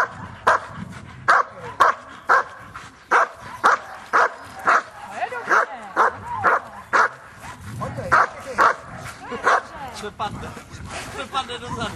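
A dog barks in a steady series of sharp, repeated yips and bow-wows at a dog training session, loud and close, with people talking quietly in between.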